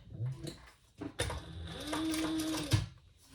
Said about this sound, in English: We'll top stitch that at 1/8 of an inch.